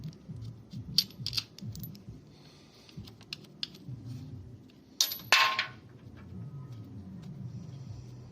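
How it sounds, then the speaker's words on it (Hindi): Nuts and bolts come off a Hero Glamour motorcycle, giving scattered light metallic clicks and taps, a sharper clinking rattle midway, and a low background rumble, all fairly quiet and close. "सारे नट बोल्ट को निकाल लेते हैं।"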